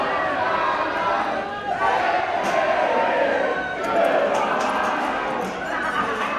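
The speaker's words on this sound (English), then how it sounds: "The crowd giving the business to the Dirty" Wrestling fans at a WAR Wrestling Dirty Intentions show jeer and shout at the wrestlers leaving ringside, a dense, steady roar of crowd noise with scattered yells throughout.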